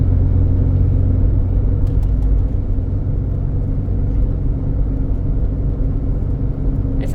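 A 2006 Ford Escape, damaged in an accident, drives along a road with a steady low engine and tyre rumble throughout, brief faint clicks near the start and end.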